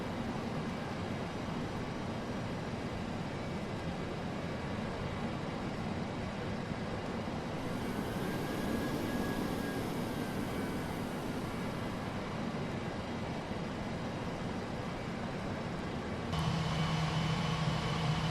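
A DC-8-73F jet taxiing in Flight Simulator X, a steady broad engine roar with a faint whine that swells around the middle, continuous and fairly loud, with no talk.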